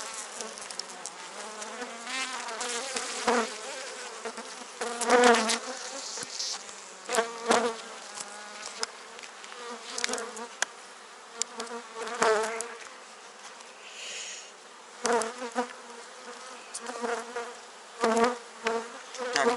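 Honeybees buzzing close by at an open hive during a spring inspection, the drone rising and falling as individual insects fly past, with occasional clicks and handling noises.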